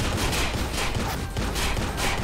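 Dense, continuous burst of rapid gunfire in the video game Watch Dogs, steady and loud throughout without pauses.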